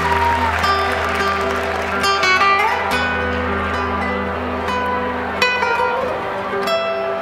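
Audience applause for a guitarist at a concert night with a singer at MGM National Harbor, a steady mid-level clapping wash over a sustained hum, with a few sharper claps standing out.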